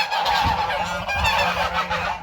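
A yearling goose, straight-billed and banded, honks repeatedly and loudly at close range, a few harsh calls in quick succession with no talk.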